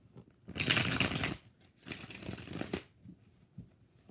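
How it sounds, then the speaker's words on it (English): Two bursts of tarot cards being shuffled by hand, a longer riffling run followed by a shorter one, close and crisp with no talking. "2 more shuffles."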